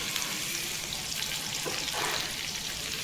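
Chopped onion sizzles in hot oil while cooking egg masala, a steady close frying crackle and hiss that holds even and unbroken throughout the short moment.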